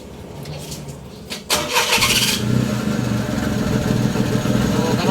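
A Suzuki F6A 4x4 engine cranks and catches after a quieter opening, then runs steadily at a close, loud idle for the rest of the stretch.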